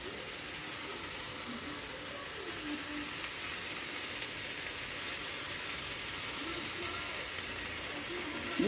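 Mashed banana flower paste fries in a pan with a continuous soft sizzle, a steady hiss at moderate volume throughout with faint occasional scraping.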